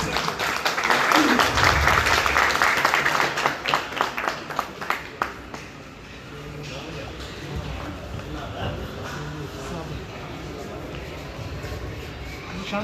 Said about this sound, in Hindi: आप सबकी भरपूर तालियों में जनाब मोहतरम उस्ताद हुमायूं भट्ट साहब ऑफ सियालकोट